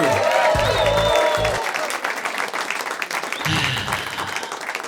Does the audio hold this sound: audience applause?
yes